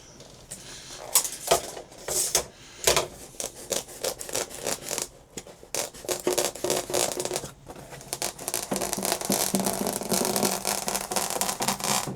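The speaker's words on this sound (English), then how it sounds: "Cuts really easy with a decent pair of sharp scissors." Sharp scissors snip and slice through soft insulation material close by, a steady run of crisp cutting and rustling strokes with no voices.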